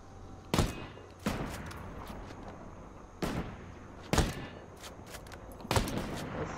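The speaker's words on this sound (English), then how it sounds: "He's got two machine guns!" Gunfire in the tactical shooter Ghost Recon Breakpoint: sharp separate bursts land every second or two over a low ambient hum, with no talking.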